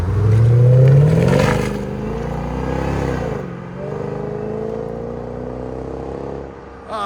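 A 2005 Jaguar XK-R with a supercharged 4.2-litre V8, X-pipe exhaust and bottle resonators revs hard up close, climbing sharply, then settling into a deep burbling idle with smaller blips.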